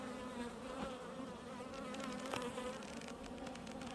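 Honey bees buzz steadily around an open backyard beehive during a first hive inspection, a close, continuous droning hum with a few louder passes near the microphone.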